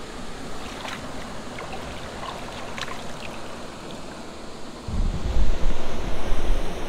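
Rushing water at Panimur waterfall in Assam makes a steady broadband roar close by, growing louder and more turbulent near the end, with some wind on the microphone.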